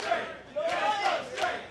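A wrestling crowd cheers for Zane Riley, a loud burst of chanting and shouting that swells and dips over a short moment.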